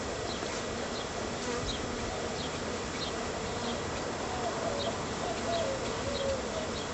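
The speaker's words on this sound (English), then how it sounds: "The next thing to do is to knock the bees back down to the bottom." Bees inside a hive being knocked down to the bottom, a dense steady buzzing hum that stays even and close throughout, with no voices.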